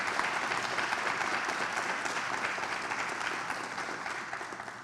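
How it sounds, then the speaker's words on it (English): Audience applause at a citizens academy graduation ceremony in Gwinnett County, a broad sustained wash of many hands clapping from a crowd, steady and gradually tapering, with no talk over it. "Please give them a round of applause."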